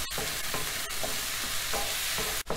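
Colourful vegetables cook in a hot pan for chicken croquettes, a constant loud sizzle broken by a few scraping stirs of a spoon, close up with no voices.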